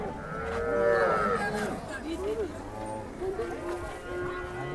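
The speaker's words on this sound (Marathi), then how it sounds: "बघू शकता शेतकरी पहिले वेताची गाय" A cow at a village cattle market lets out loud, drawn-out moos, with more lowing from other cattle nearby and people talking in the background.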